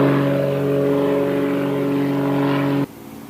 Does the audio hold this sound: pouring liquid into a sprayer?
no